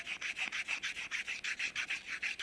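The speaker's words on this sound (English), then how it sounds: "as you're buffing, and I do it quite hard, you know, I use a lot of friction, you'll see it gets shinier and shinier" Dipping powder nails are buffed hard with a nail buffer, giving a close, steady series of rapid scratchy rubbing strokes in a quick even rhythm with no talking.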